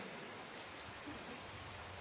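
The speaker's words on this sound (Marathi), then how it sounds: "पाऊस खूप आहे पाऊस खूप आहे" Heavy rain pours down in a village in Konkan, a dense, even, faint hiss with no voices over it.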